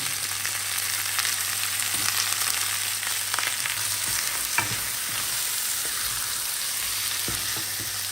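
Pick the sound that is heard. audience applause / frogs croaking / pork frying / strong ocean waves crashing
pork frying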